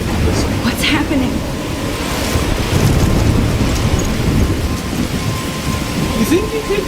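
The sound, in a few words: thunderstorm with rain in Life Is Strange video game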